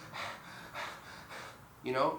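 Imitated heavy mouth breathing at a jiu jitsu class: three loud, rhythmic breathy exhales about half a second apart, then a harsher gasping pant at the end, close and alone.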